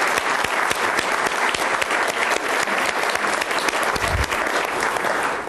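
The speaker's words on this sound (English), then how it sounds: "Let me join you in applauding all of you for what you've done to make this happen." A conference audience at a youth suicide prevention event breaks into loud, dense applause, many hands clapping continuously from close by and filling the room throughout.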